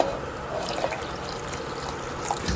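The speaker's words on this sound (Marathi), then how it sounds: "इथे मी गरम पाणी केलेलं आहे आणि या मिक्सरच्या भांड्यात टाकत आहे" Hot water trickles and pours into a mixer jar in a short, steady stream, close by, with faint splashes.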